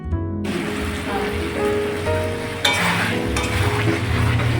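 Jackfruit sizzling steadily in a pan with ginger-garlic paste, turmeric and salt as it is stirred, a dense close-up frying hiss with scraping strokes throughout.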